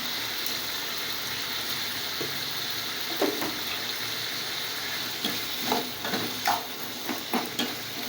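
Tomatoes sauté in a pan for chutney, with a constant sizzling hiss broken by scraping, clinking stirs that come in clusters toward the end.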